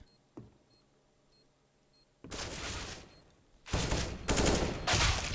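Bursts of rifle fire echo in a Counter-Strike match on the Cache map, dense rapid shots in several loud volleys after a quiet stretch with a faint click.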